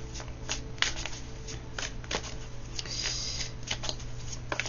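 Tarot cards shuffled by hand in a continuous riffling, fluttering run of soft slaps and whooshes over a steady low hum, fairly close, with no talk.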